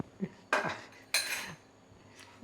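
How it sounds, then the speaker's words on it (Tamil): A small spoon stirs food in a metal cooking pot, giving two sharp clattering scrapes against the metal followed by a faint clink, close and fairly quiet, with no talking. "இப்போ ஒரு கலக்கு கலக்கிறோம்"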